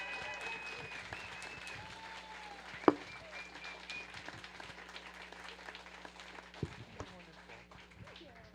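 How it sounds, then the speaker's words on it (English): Audience applause following a science talk at a Nerd Nite evening, a steady burst of clapping from a room of listeners filling the whole stretch, with a few louder claps standing out and some chatter mixed in. "Alrighty, let's keep that applause going for Jade."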